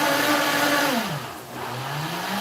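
Kitchen blender whirring loudly with mushrooms and oil, its motor pitch dropping midway then rising again as the load shifts, close and continuous.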